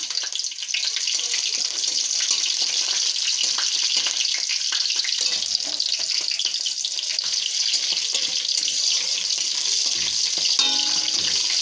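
Dried red chili, bay leaf, whole cumin and green chilies fry in hot oil, giving a steady, bright sizzle that hisses evenly throughout with small crackles and no talking.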